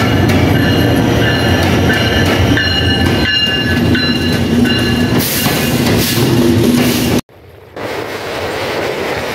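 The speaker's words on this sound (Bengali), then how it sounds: "আমাদের ট্রেন কিন্তু চলে এসেছে।" The Chitra Express on the Khulna–Dhaka route arrives at a station with a loud, close rumble, wheel clatter and high squealing brakes, then cuts abruptly to a quieter, steadier hum.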